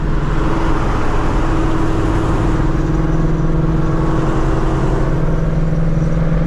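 Chuck's car pulls away at a Mustang Week gathering, a steady, close engine drone with a low hum that holds evenly throughout and has no talking over it.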